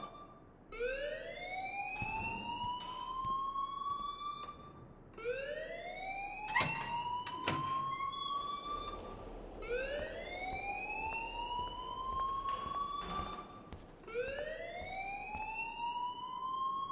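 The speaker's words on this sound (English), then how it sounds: "please turn off that alarm since that's your job" School alarm ringing in the game Life Is Strange, a rising electronic whoop repeating about every four and a half seconds, moderately loud and unbroken, with faint background clatter.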